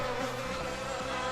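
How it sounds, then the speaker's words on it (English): A giant hornet buzzes continuously nearby, a steady droning hum holding level for a second or so over faint background sound. "That's a giant hornet."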